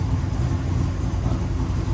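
A Holden HJ wagon engine idles in a shed, a steady low rumble holding even and close throughout with no pauses.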